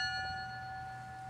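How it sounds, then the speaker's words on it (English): A bell rung at a Pearl Harbor memorial service in Helena, honoring Montana service members, hangs in a sustained, steady metallic tone that slowly fades, alone with no talking. "Heller rang a bell in their honor"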